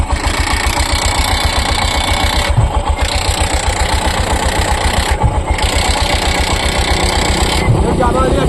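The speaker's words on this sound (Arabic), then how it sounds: "هات لي الصوت من عند الموتور" Tuk-tuk motor running steadily with a rapid, even putter that holds loud and close throughout, a few brief dips and bumps along the way.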